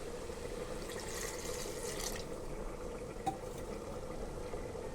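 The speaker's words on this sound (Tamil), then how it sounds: "கொஞ்சம் தண்ணி சேர்த்துக்கிடலாம்." Water added to a pan of cooking fish curry gives a faint, close sizzle and bubbling hiss, steady for five seconds with a single small clink partway through and no talk.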